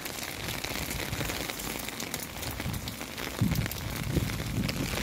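Dense, steady patter of summer rain falling on surfaces nearby, with occasional heavier drops, continuous throughout with no voices.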